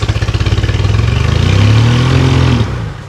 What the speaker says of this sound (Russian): Двигатель троит, но работает.